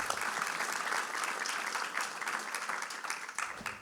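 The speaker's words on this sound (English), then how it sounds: "Yeah, round of applause." An audience at a filmmaking panel claps steadily and densely, a sustained wash of applause from a seated crowd that holds at an even level before tapering slightly at the close.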